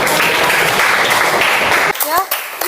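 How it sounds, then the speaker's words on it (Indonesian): Students in a classroom lesson clap together in a loud, dense burst that lasts a couple of seconds and then stops abruptly, after which a voice begins speaking. "Beri tepuk tangan."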